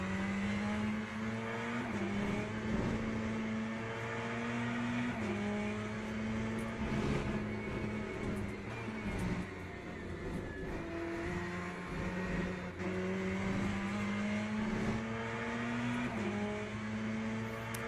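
A Ferrari race car in Le Mans Ultimate holds a loud, close engine note that rises and falls through gear shifts and braking zones, with tire squeal and occasional downshift pops over a continuous lap, no voices.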